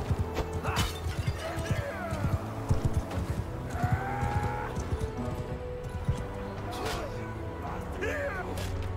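Horse hooves clip-clop in a video game while game sounds, brief whinnies and a crash mix in, with someone talking over much of it.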